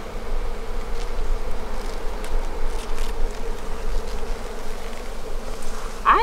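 Honey bees buzz loudly and steadily throughout a springtime hive inspection, a dense continuous drone of many insects close by with no talk.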